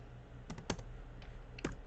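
Computer keyboard keys pressed a few times during a coding lesson, soft separate clicks at about half-second spacing over a quiet background hum.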